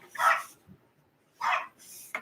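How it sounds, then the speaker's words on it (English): Dogs bark downstairs in a house in three separate bursts of sharp, fairly faint barks spaced by quiet gaps. "I don't know if you guys can hear the dogs. I can hear them downstairs."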